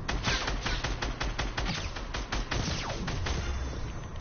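Continuous rapid gunshots in a video game, a dense rattling volley of automatic fire with sharp evenly spaced cracks, loud and close throughout, without voices.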